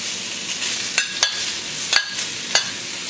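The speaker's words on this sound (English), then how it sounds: "Just sear the watermelon for a few minutes." Watermelon rind searing alongside pork belly in a hot pan for a Chinese stir-fry, a steady close sizzle with a few sharp crackles and pops spaced through it.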